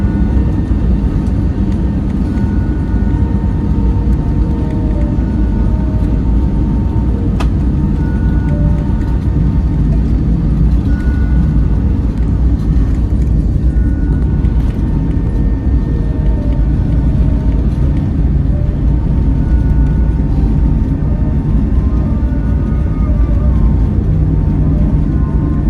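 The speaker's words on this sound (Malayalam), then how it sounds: "ഇത് നമ്മുടെ ഫ്ലൈറ്റ് ടേക്ക് ഓഫ് ചെയ്യാൻ പോകണേ." Vistara passenger jet taking off from Trivandrum, heard from inside the cabin as a loud, steady engine roar with a low rumble that holds throughout, no talk.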